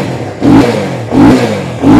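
A 2021 Benelli TRK 251 SE ABS motorcycle with its standard engine is revved up close, producing three quick, loud throttle blips in a rising and falling rhythm.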